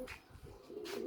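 A pigeon on a rooftop loft gives soft, low cooing calls, a couple of brief murmured phrases close by over faint background noise.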